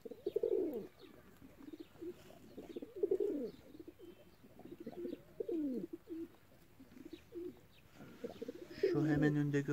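Several pigeons coo in soft, repeated throaty phrases close by, with a brief higher chirpy call near the end.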